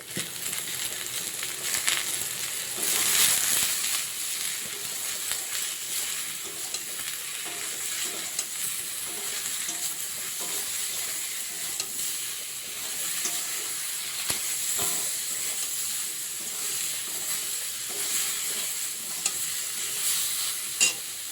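Ridge gourd and pomfret fish are stirred in a hot pan, with steady sizzling and frying hiss and occasional scraping of the spatula, close and continuous, no talking.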